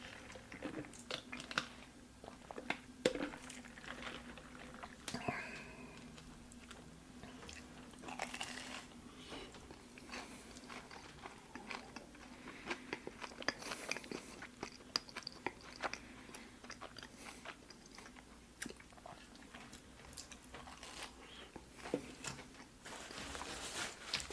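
Soft, close chewing and biting of a Burger King BK Melt burger with a deep-fried element, quiet and steady with small crunchy bites scattered throughout and no talking.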